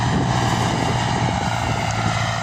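A Dongfeng 244 mini tractor with a 25-horsepower engine ploughs soil, giving a steady, loud, continuous engine drone close by with no one speaking.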